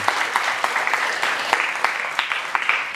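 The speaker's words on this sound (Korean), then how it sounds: "박수 한번 쳐주실래요?" An audience in a lecture hall gives a short round of applause, a dense, even patter of many hands clapping with scattered sharper claps standing out, without talk.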